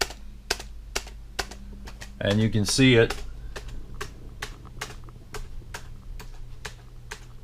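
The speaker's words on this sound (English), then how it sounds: "you just tap the keyboard" Computer keyboard keys tapped at a steady tempo, sharp clicks spaced about half a second apart as for a tap-tempo metronome, while someone speaks briefly over them.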